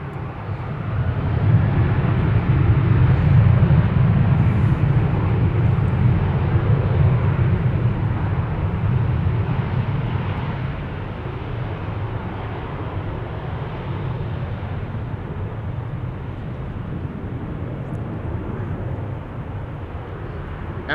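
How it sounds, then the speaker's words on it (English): An Emirates SkyCargo freighter taxis at Amsterdam Schiphol, its engines giving a loud, steady jet rumble and whine that swells early on, then settles to a slightly quieter continuous drone. "But also coming this way is Emirates. Emirates Sky Cargo by the looks of it."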